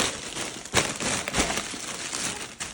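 Thin plastic grocery bag crinkling and rustling while groceries are unpacked in a kitchen, a close, steady run of papery crackles with a few sharper crunches and no talk.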